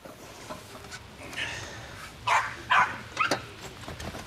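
A dog gives a few short, sharp barks close by during an animal rescue visit, three or four bursts in the second half with faint background noise in between.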